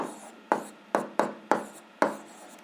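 Chalk or pen strokes scratch out an algebra equation by hand, six short sharp taps and scrapes in an uneven rhythm, close and fairly quiet.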